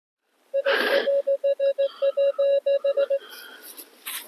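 A Minelab X-Terra Elite metal detector sounds off over a coin at an old apiary, giving a rapid series of about a dozen short, clear electronic beeps with a brief rustle at the start.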